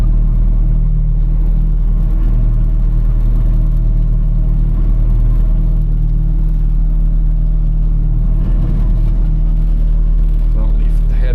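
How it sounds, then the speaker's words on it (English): A combine harvester's engine runs as a steady, loud low drone throughout while the machine is shifted into reverse, with no break in the rumble. "now we should be able to go in a reverse"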